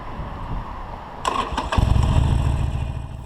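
A Harley-Davidson Forty-Eight motorcycle, taking its first ride of the season, cranks briefly and then fires up, settling into a loud, close, lumpy idle rumble after a quiet moment before the start.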